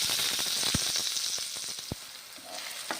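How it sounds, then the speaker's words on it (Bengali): Eggplant pieces fry in hot oil, a soft steady sizzle with scattered crackles and a couple of sharp utensil knocks, fairly quiet and close. "এখন বেগুনগুলো ভেজে নিচ্ছি"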